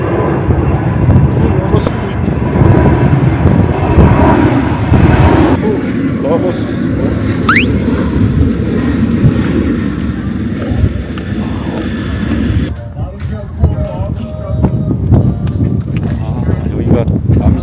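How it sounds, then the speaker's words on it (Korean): An airplane passes overhead in Guam, a broad, steady engine roar that stays loud throughout, with people talking in the background. "비행기다."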